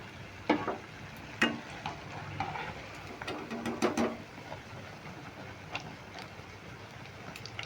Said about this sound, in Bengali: এগুলো ভাজা হয়ে গেছে এবার আমি ভেজে নিচ্ছি